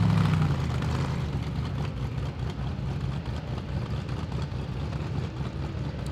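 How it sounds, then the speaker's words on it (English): An off-road race car engine drones steadily at a distance on a short dirt course, a continuous low rumble with faint rises and dips in pitch. "You can definitely hear him stretching that engine out in that short course."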